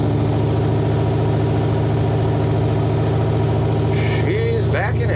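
A car engine idles steadily after a starter repair, a loud, even low hum with a faint voice briefly heard near the end.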